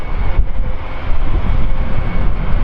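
An Airbus A350 airliner flies past at the Farnborough Airshow 2016, heard as a steady, loud, broadband jet roar that holds for the whole stretch with no talk.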